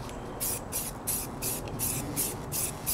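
A spray gun lays thin coats of paint on a Yamaha R1 motorcycle front wheel mounted on a wheel jig, repeated short hissing bursts in a steady rhythm, close and fairly loud over a low background rumble.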